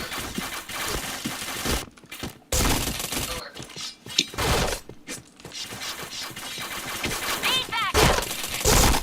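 Gunfire in the PointBlank online shooter game, with bursts and single shots breaking out in clusters amid game effects, while a player talks over the action.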